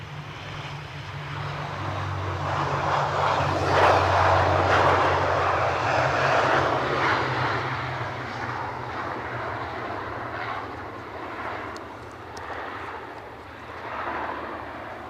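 Airliner landing at windy Edinburgh Airport, a loud, broad engine roar and rushing wind noise swelling to a peak and slowly fading as the aircraft passes, with no voices.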